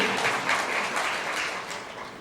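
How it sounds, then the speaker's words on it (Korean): Wedding guests applauding, a dense continuous patter of clapping that holds steady and tapers slightly, fairly close with no talk over it. "여러분의 뜨거운 박수로 맞이해 주시면 대단히 감사드리겠습니다"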